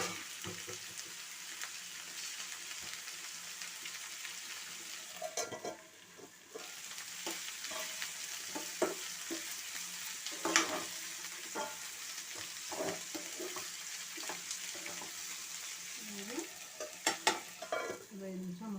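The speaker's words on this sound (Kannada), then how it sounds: "ಇದು ಆಯಿಲಲ್ಲೇ ಫ್ರೈ ಆಗಬೇಕು." Capsicum vangi bath masala frying in oil in a pan, a soft steady sizzle with intermittent scraping stirs and light clinks, close but fairly quiet, no talking.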